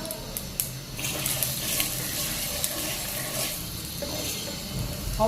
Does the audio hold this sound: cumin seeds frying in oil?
yes